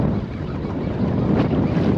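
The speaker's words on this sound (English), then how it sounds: "that bloody wind's got up again" Wind buffets a microphone aboard a small fishing boat on the Solent, a steady low roaring gust with no talk.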